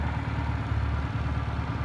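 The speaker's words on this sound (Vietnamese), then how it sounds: "máy nổ thì thầm luôn anh ơi hai bô dinh theo xe còn nguyên chưa có móc luôn nha các anh nổ rất là ấm đây đó" A custom 125cc motorcycle with twin exhausts idles nearby, its engine giving a steady, warm low thrum with an even pulsing rhythm throughout.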